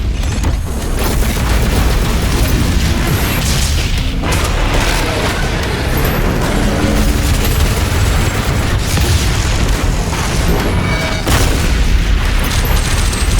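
Missile explosions from the video game Doom Eternal: The Ancient Gods Part Two, a dense, continuous roar of loud booms and bursts rolling together without pause, heavy low rumble throughout with no talking.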